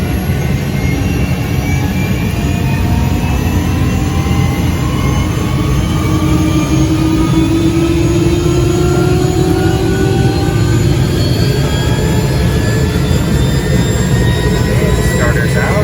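A Robinson R66 helicopter's turbine engine spools up during startup, a loud, steady roar with a rising whine from close by.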